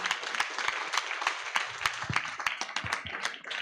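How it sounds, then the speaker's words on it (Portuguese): A church congregation applauds during an evening worship service, a dense, steady wash of many hands clapping with sharp individual claps standing out, sustained throughout with no speech. "Pode aplaudir ao Senhor"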